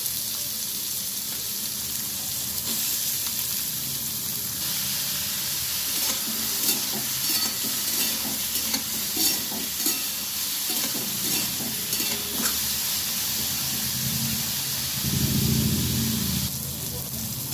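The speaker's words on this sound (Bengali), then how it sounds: "দিয়ে দিলাম কালো জিরে ফোড়ন। দিয়ে আমি করলাগুলো দিয়ে দিচ্ছি।" Sliced bitter gourd fries in hot oil with nigella seeds in a pan, a loud, steady close sizzle with intermittent stirring scrapes and a surge of spattering near the end.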